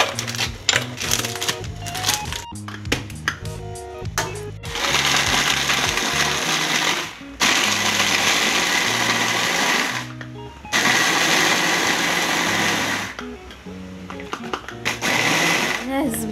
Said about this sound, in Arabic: غادي نديرو البسكويت نديروه في الهاشوار باش يتطحن معنا مزيان